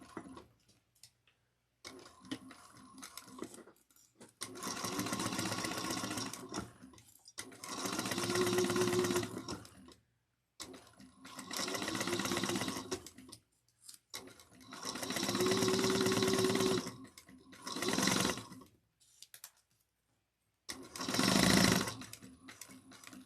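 A sewing machine stitches a handbag in repeated bursts of rapid whirring, each run a few seconds long and separated by short pauses, close and clear with no talk over it.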